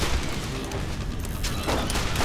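A launcher fires at the Leviathan boss in the video game Borderlands, booming blasts and explosive impacts running continuously and loudly through the clip amid dense battle noise, with no talking.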